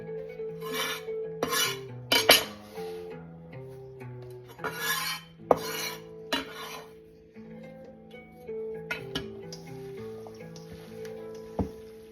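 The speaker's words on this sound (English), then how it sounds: "once I mix it with the olive oil, I add the oregano, the chopped oregano leaves" Chopped oregano leaves worked by hand into olive oil for a za'atar bread filling: soft, rasping rubs and scrapes come in irregular bursts over steady background music.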